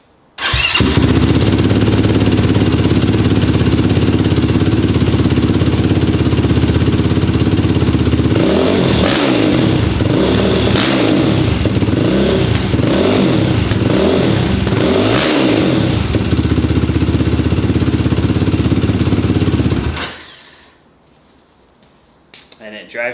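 A 2018 Yamaha YFZ 450R ATV with an HMF exhaust, spark arrestor removed, fires up, idles loudly, and is blipped through a run of sharp throttle revs before cutting off abruptly.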